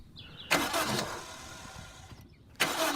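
Suzuki Ignis Sport engine cranks and fires up at once on the button, a short start burst settling into a steady idle, followed by a second loud burst near the end, close and with no talking.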